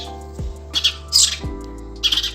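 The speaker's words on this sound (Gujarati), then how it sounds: "ચકલીના બચ્ચા છે, એની મા પાસે ખાવાનું માગવા આવે છે" Sparrow chicks in a nest calling to their mother for food, with short, sharp squawking bursts repeated in a quick, irregular series over a low steady hum.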